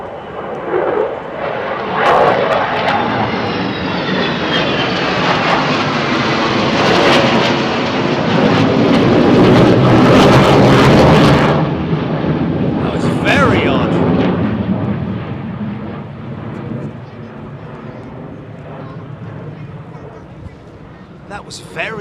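F-16 fighter jets at RAF Lakenheath roar overhead in a loud, swelling pass that peaks mid-way and slowly fades, with a person talking over the noise.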